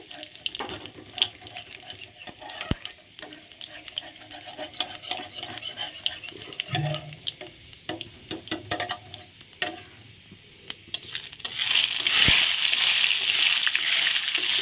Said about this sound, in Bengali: দিয়ে দিলাম শুকনো লঙ্কা তেজপাতা আর পাঁচ ফোড়ন ফোড়নের জন্য দিয়ে দিলাম ফোড়নটা এখন ভালো করে ভেজে নিচ্ছি